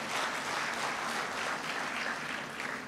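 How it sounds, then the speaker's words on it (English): An audience at a national development policy forum claps for a professor, a dense, even wash of applause heard at moderate distance and fairly quiet, with no talk over it. "Can we clap for Professor as it goes down?"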